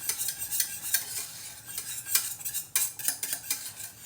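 A spoon stirs milky pesto sauce in a pan, scraping and clinking steadily against the metal over a faint sizzle, close and fairly quiet, with no voices.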